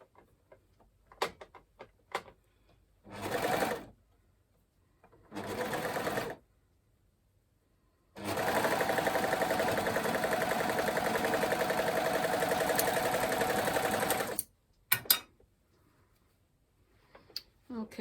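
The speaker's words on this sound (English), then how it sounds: "I'm simply going to overlock both sides of those." An overlocker stitches up the shoulder seam of a stretchy muscle-back top, a steady rapid whirring run of about six seconds after a few shorter bursts and clicks, with quiet gaps and brief handling noises between.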